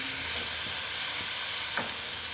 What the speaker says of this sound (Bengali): দেখো কষিয়ে নিচ্ছি মোটামুটি কষানো হয়ে গেছে